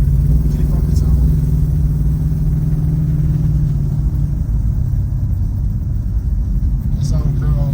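Steady low engine rumble from a 1968 Oldsmobile Cutlass 442 tribute convertible cruising in overdrive, a constant loud drone with road noise throughout, no talk.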